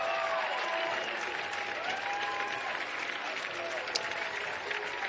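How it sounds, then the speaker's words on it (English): Applause from the Lehi Pioneers boys' high school soccer team and crowd after a 5A championship final, a steady wash of clapping through the clip, while a commentator talks over it. "See the Lehi Pioneers coming over to their fan base, applauding one more time."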